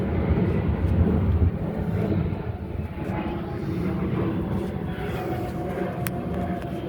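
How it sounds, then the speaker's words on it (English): An airplane drones overhead outdoors as a broad, steady low roar that stays fairly loud throughout, with faint traffic-like rumble mixed in. "Get that airplane right there, man."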